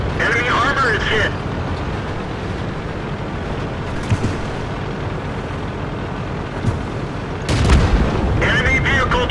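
In a tank video game, a Panzer III's cannon fires and shells strike armor: a few heavy booms land over a constant rumbling game backdrop, with the loudest impact near the end.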